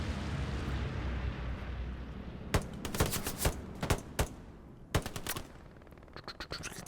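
Gunfire in the Hell Let Loose video game: a string of sharp single shots and short bursts, several loud and near, others more distant, over a steady low battlefield rumble.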